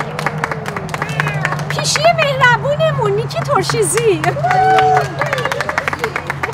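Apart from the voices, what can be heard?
audience applauding students at Persian language school event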